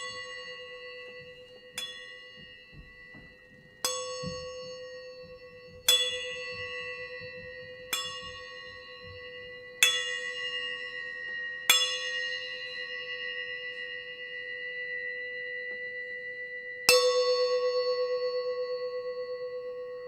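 A resonant bell struck about seven times at uneven intervals, each clang ringing out and decaying slowly, with a long final strike left to fade alone.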